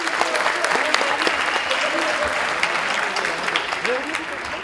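An audience at a Turkish municipal youth event with the Hababam Sınıfı cast claps in sustained, dense applause at moderate level, with faint crowd murmur mixed in.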